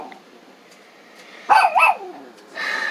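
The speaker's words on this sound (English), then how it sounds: "The dogs are hollering." Dogs bark a couple of times close by at a house, two loud sharp barks with a softer yelp after, over a quiet room.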